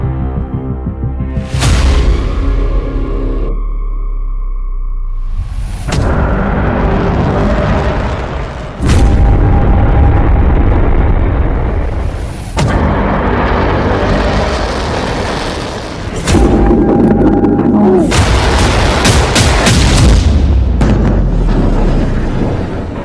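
Heavy explosions from Israeli bombing rock Beirut, Lebanon, at night. Deep booms and rumbling blasts repeat in bursts over a continuous low roar, loud and close, with no voices.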